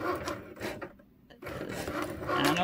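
A Cricut cutting machine runs with vinyl fed in without a mat, the vinyl balling up inside. It gives a close, raspy mechanical rubbing and grinding, drops to a near pause midway, then resumes loudly, and no one speaks.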